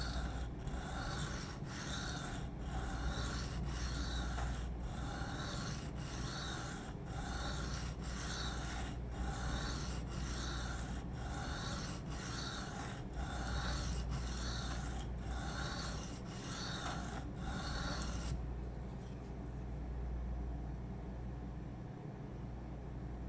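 A Spyderco Sage 5 LW knife in M4 steel is sharpened freehand on stones, a close, steady gritty scraping in quick regular strokes that stops abruptly near the end, leaving quiet background hum.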